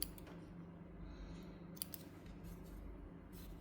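Quiet snips of scissors cutting yarn at the end of a crocheted flower, a couple of soft, crisp clicks against a steady low hum of room noise.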